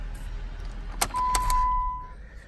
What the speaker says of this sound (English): So what we're going to go ahead and do is turn off the vehicle